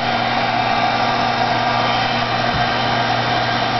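A handheld embossing heat tool blows steadily and loudly at close range while heating stamped embossing powder, its even hot-air whir filling the whole stretch with a slight shift in tone near the end.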